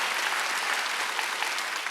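Congregation clapping together during a Wednesday church service, a brief, steady burst of many hands applauding at moderate volume with no speech over it.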